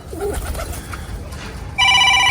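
A telephone ringtone starts abruptly near the end, loud and close and with a steady electronic tone. Before it, pigeons coo softly in a loft.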